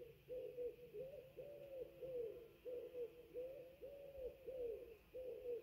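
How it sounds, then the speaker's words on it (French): A pigeon or turtle dove calls with soft, low coos repeated in a steady rhythm. The calls are faint and somewhat distant over a constant outdoor hiss, with no talking. "je sais pas si c'est un pigeon ou une tourterelle qui chante"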